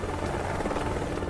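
Helicopter in the video game Wanted: Dead, a loud, continuous rotor drone and engine roar that fills the whole moment, with voices mixed in underneath.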